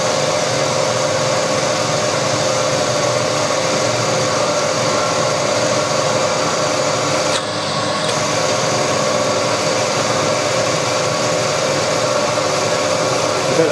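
A milling machine drills into hard steel, a steady loud mechanical whir with dense broadband noise running continuously, with one brief dip partway through.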